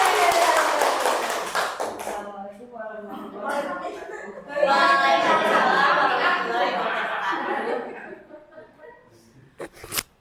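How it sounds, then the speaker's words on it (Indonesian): Audience applause at a school teachers' gathering, scattered hand clapping swelling in the middle and fading toward the end, with chatter and laughter heard alongside. "Beri tepuk tangan dulu Bapak Ibu"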